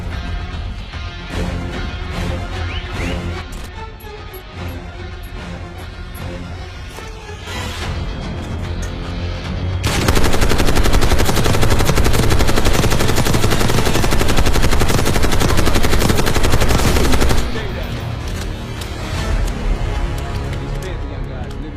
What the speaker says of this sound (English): Stay low until that minigun stops spinning.